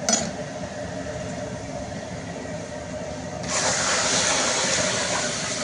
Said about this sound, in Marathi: आता त्यांनी फोडणीमध्ये पाणी ओतलेलं आहे।